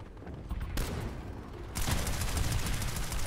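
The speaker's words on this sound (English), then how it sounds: "That's my Spitfire going off." Spitfire auto-turret in Planetside 2 firing in dense, rapid bursts that swell sharply partway through, a loud, continuous crackle of automatic gunfire with no talk.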